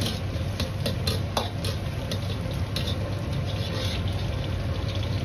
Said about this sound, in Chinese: 下入剁好的肉末翻炒